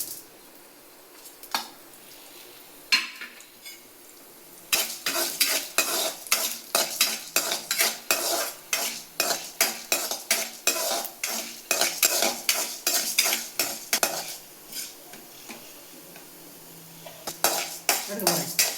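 Ingredients for a pepper tomato chutney are dry-roasted one at a time in a pan, with a spoon scraping and clinking against the metal in quick rhythmic strokes that go on steadily and close by.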